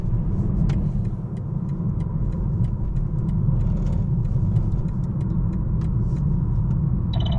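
A BMW M3 Competition engine rumbles steadily from inside the car while driving, a low continuous drone with faint ticks and clicks on top, no talking.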